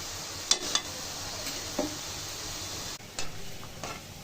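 Chopped garlic and dried red chili fry in oil for a red amaranth stir-fry, a soft steady sizzle broken by a few spatula scrapes and taps in the pan.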